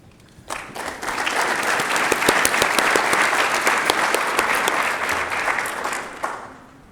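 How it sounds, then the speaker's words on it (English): Sustained applause from an audience at a benefit breakfast, many hands clapping steadily at close range for several seconds before tapering off. "stand for a round of applause"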